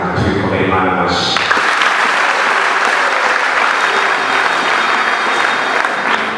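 Loud, sustained congregational applause fills a church worship service at Jesus House parish, rising out of a brief voice at the start and holding as a dense, steady roar of many hands to the end.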